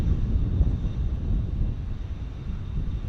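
An American Airlines jet arriving from Las Vegas at Dallas Fort Worth, a steady, broad engine roar with wind buffeting, continuous and fairly near without talk.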